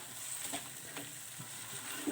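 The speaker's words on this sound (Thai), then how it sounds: "เสร็จแล้วนะคะเราก็คนนะคะให้มันเข้าเครื่องกันนะคะ" Sweet and sour chicken with minced pork being stirred in a hot pan, a steady soft sizzle with faint scraping of the utensil, close and continuous.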